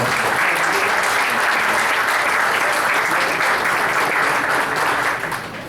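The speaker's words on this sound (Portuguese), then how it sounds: "Eu queria pedir uma salva de palmas ao professor Daniel." A staff meeting crowd gives a loud, continuous round of applause honouring Professor Daniel, the campus's first director, with dense clapping that holds steady and tapers off at the very end.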